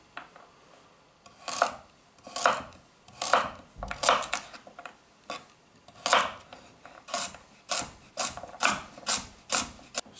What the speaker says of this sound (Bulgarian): Сега ще нарежем морковите на шайби.